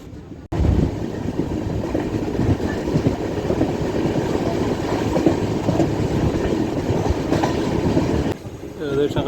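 A passenger train travelling to Kanyakumari, India, gives a loud, steady rumble with rail clatter that starts abruptly, holds for about eight seconds, then drops away near the end.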